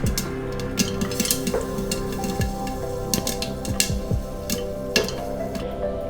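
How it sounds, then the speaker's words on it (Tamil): Scattered sharp pops and ticks of corn kernels bursting inside a covered pot, irregular and sparse over a steady background hum. "கார்ன் நல்லா பொரியிற சத்தம் கேட்கும்"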